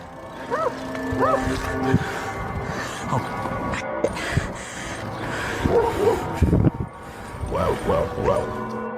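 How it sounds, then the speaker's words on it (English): Dogs bark repeatedly at mid distance amid a busy outdoor background, with several sharp barks and rising yelps layered over the noise. "he hears barking behind him and the chase is on again"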